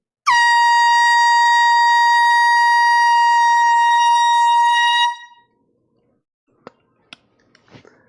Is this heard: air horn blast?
yes